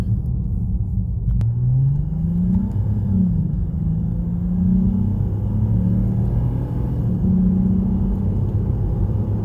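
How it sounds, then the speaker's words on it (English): Intake of a Lexus IS250 fitted with an Invidia Q300 exhaust, heard from inside the car: a steady low rumble with a rising and falling tone as the engine pulls, continuous with no talking. "What you guys hear is the intake."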